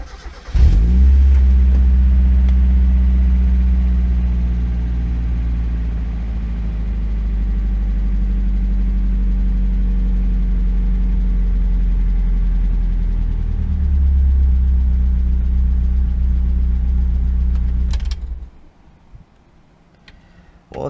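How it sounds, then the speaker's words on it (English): A Mazda Miata engine idles steadily for about eighteen seconds, a low even rumble with a faint rhythmic ticking, close and loud, then cuts off abruptly into near silence. "it's idling now instead of dying"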